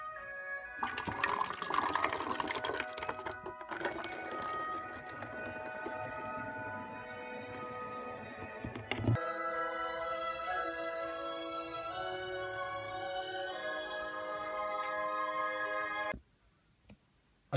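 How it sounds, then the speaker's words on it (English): Dissolved yeast being poured into a mix of hydrogen peroxide and dishwasher detergent gives a loud, splashing liquid gush that settles into a steady bubbling fizz and then stops abruptly. "now we're going to pour the yeast inside the hydrogen peroxide and dishwasher detergent mix"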